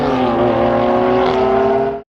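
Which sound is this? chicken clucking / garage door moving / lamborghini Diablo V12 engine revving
lamborghini Diablo V12 engine revving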